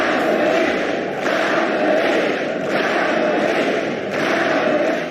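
Large crowd at a Formula 1 race in Japan roaring and chanting driver Kamui Kobayashi's name, a loud continuous wall of voices with rhythmic surges every second or so.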